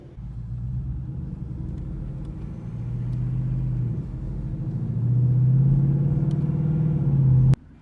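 A 2019 Ford Mustang GT accelerates with a deep, rumbling engine note that climbs, dips as a delayed paddle shift from first to second takes hold, then rises again, heard close and loud with no talk.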